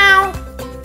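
A person's voice imitates a cat meowing, giving a short melodic meow followed by two brief softer vocal bursts, close and fairly loud.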